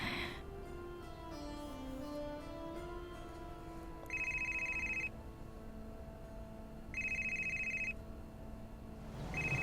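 A phone ringtone plays over a steady hum, sounding in two clear bursts of repeated electronic trilling, close and fairly loud.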